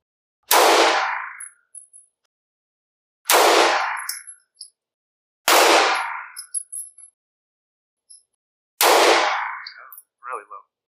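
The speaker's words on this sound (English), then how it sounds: "I'm shooting for the middle target." A Taurus TH9 9mm compact pistol fires four sharp, loud shots at targets on a range, spaced a couple of seconds apart, each leaving a short ringing echo and faint metallic pings, with a little talking between shots.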